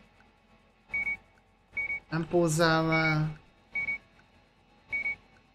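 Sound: supermarket barcode scanner beeping at checkout, from video game Gas Station Simulator

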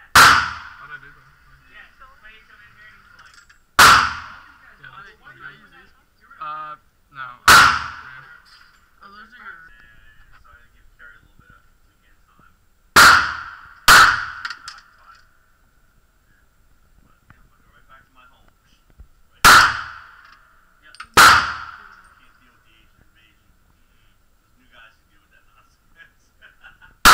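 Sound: Makarov pistol target shooting gunshots

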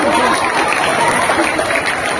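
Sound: audience applause

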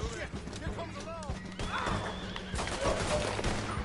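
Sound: horse neighing in video game Red Dead Online

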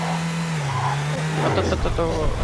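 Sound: car driving in the video game WarZ Siam MMO

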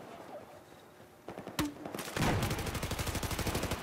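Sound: machine gun fire in video game Battlefield 4, MG4

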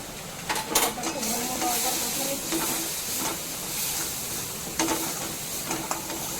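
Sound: sautéing spices with turmeric and chili powder in a pan

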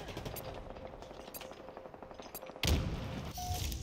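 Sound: gunfire in Halo Infinite video game

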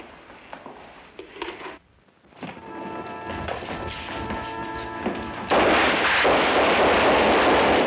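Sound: gunfire in a 1951 Korean War film

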